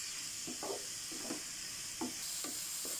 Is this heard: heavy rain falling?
no